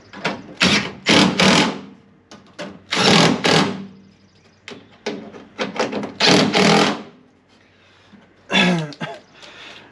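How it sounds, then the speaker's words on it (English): Stock bolts being tightened on the rear inner fender liners of a 2021 Jeep Gladiator EcoDiesel, with repeated loud close ratcheting bursts of varying length separated by short pauses. "And then I'll tighten up the bottom ones here too that are the stock bolts."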